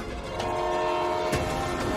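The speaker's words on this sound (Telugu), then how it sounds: "ఏంట్రా ఇల్లు మధ్య ట్రైన్ ఏంట్రా?" A train rumbles past while its horn blares in a long, steady, sustained tone, loud and fairly near.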